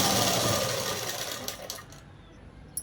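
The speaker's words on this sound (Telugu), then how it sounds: "ఇలా మడిచి అనేది కుట్టుకోవాలి." A sewing machine runs a folded fabric hem on a dress, a loud steady whirring stitch that slows and stops partway, followed by a few light clicks and handling sounds.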